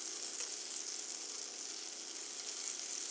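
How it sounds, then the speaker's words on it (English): About a tablespoon of butter sizzles and fizzes steadily in a Copper Chef skillet, a soft, even hiss heard up close with no talking. "I'm going to take about a tablespoon of butter. And I'm just going to put it in the middle"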